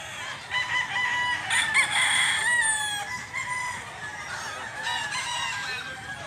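A two-year-old rooster with yellow legs crows several times in a row, loud and close, with clucking from other fowl around it and no talk.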